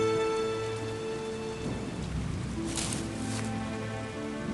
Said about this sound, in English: It began raining, and Arlo knew he had to build a shelter